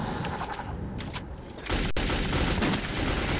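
Gunfire in the video game Metro 2033, a sharp burst of shots with a loud impact near the middle, then dense continuous firing that stays close and loud to the end.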